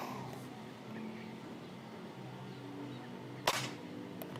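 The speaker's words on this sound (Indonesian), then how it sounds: "Kita akan coba tembakan pakai peredam yang 17 cm." A single muffled gunshot fired through a 17 cm suppressor cracks sharply near the end, standing out briefly over a quiet, low background hum.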